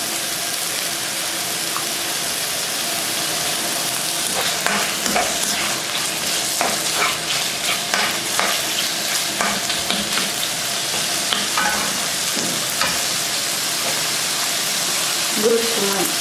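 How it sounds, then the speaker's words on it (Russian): Chicken breast fries in a pan, a continuous bright sizzle with scattered clicks and scrapes of stirring, and a short tonal sound near the end. "Выкладываем грудку и будем ее обжаривать."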